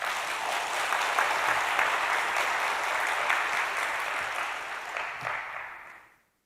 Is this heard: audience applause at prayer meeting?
yes